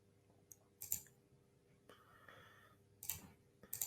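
Sharp mouse clicks on a computer while applying email labels, a few isolated taps spaced across a quiet room, close and faint with no talking.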